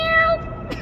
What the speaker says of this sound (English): That's the sound a cat makes.